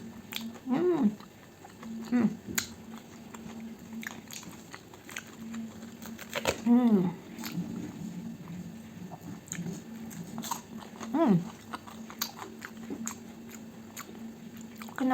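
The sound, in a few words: crunchy chewing of fried breakfast food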